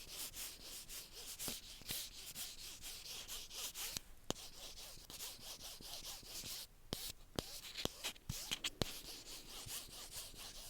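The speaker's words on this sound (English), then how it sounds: "I'm going to go ahead and polish now." Nail polish brushed onto fingernails during a close-miked manicure, heard as soft, steady scratchy strokes with small clicks and taps, alone and quiet.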